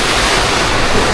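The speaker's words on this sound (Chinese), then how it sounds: "狂风肆虐。" Violent storm winds roaring outside during a long spell of heavy rain and wind, a loud, dense, continuous rush with no breaks.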